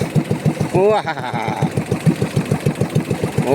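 A small 18 HP boat engine chugs in a fast, regular rhythm, close and loud, with a brief rising whine partway through.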